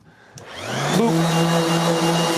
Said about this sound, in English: go do some research into Festool vacuum systems